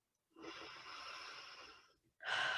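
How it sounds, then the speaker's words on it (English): One long, deep exhale through the mouth, a steady breathy rush lasting over a second, followed by a brief pause and the start of another strong breath, close and without talk. "take a really deep exhale"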